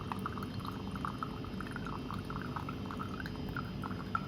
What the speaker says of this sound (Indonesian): kita ambil beker gasnya dan tuangkan buffer tersebut ke dalam larutan tersebut